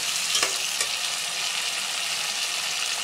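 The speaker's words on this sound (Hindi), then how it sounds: "आलू को इस तरीके से तेल के अंदर 2 मिनट तक फ्राई करेंगे" Potato pieces fry in oil for a Meerut-style aloo methi dish, giving a dense, even, continuous sizzle close to the pan, with a couple of faint stirring clicks and no voices.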